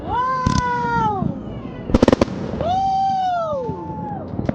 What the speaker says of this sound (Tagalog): fireworks ng New Year.